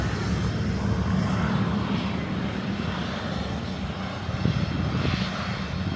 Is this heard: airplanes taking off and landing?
yes